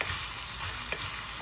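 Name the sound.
stirring sizzling tempering for lemon pulihora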